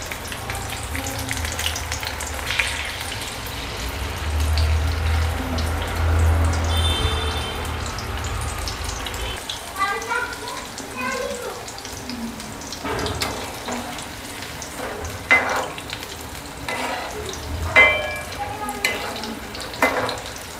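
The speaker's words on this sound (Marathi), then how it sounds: "मस्त लालसर तळून घ्यायची।" Corn bhaji fritters deep frying in hot oil give a steady, moderately loud sizzle with bubbling, broken by occasional stirring and clinks of a spoon against the pan.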